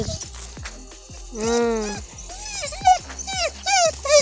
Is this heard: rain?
no